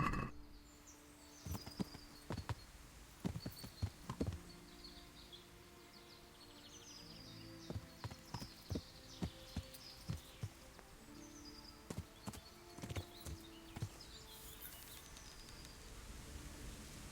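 In Kingdom Come Deliverance, a horse walks with scattered hoof thuds and lets out whinnies, set against quiet ambience with occasional birdsong and little talk.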